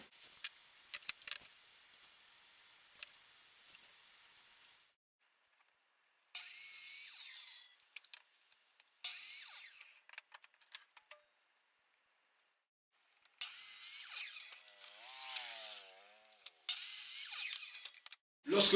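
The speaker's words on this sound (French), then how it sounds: "je vais couper deux planches, bien entendu de 20 cm de largeur, pour 25 cm de hauteur." Wooden boards are sawn for a bird feeder in several separate rasping bursts, each a second or two long, with quiet gaps between and no talking.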